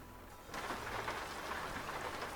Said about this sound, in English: Oh, listen to that rain.